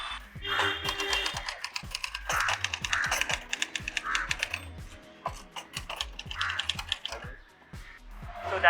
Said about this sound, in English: So this typewriter is quite rare now, usage of this kind of typewriters.